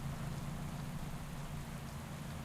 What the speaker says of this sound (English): From the front of the field to almost 3 minutes down here in the rain.